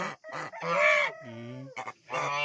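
Farmyard fowl near a hen with her chicks call out in a few loud, close honking and clucking bursts over about two seconds, with no talking.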